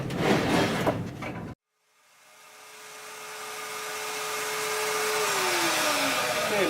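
A router bit biting into ordinary Home Depot lumber while routing a Tele-style guitar template: a loud, harsh cut that stops abruptly, then the motor whine spins back up steadily and holds before dropping in pitch near the end.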